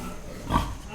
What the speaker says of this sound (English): Yes, it is oink.